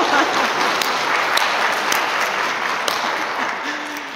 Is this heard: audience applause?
yes